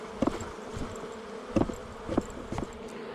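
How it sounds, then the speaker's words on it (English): Honey bees buzz softly around a honey-filled hive frame during an inspection of a struggling hive, a steady low drone broken by a few louder thumps and rustles, with no talk. "This frame's got a lot of honey in it. Okay, let's take that frame too. Oops, shake the bees off first."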